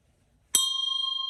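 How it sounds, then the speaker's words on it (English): A meditation bell is struck once after near silence, giving a clear, bright strike followed by a long, pure, slowly fading ring. "please adjust your ears as I'm going to ring the bell right about now."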